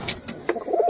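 A pet pigeon coos softly and close in a few short low murmurs, with faint brief chirps early on and no talk.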